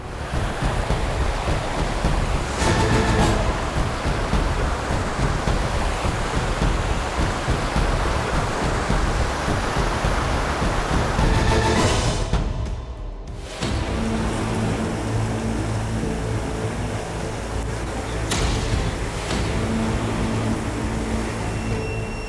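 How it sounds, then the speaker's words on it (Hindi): A very wide river rushing in full flow after monsoon rains, a continuous loud broadband roar of churning water with wind buffeting the microphone, briefly dipping midway before resuming. "सामने एक नदी थी, बेहद चौड़ी, जो बरसात के बाद अपने प्रचंड वेग में थी।"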